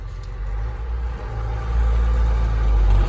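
A John Deere 6920 tractor engine runs with a deep, steady rumble in a field that grows slightly louder over a few seconds, close by and without talking.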